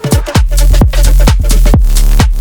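Melodic Serum synth saturated with Decapitator plays in the second half of a dance drop, with rhythmic repeated notes pumping over heavy, punchy kicks at a loud, full level with no talking.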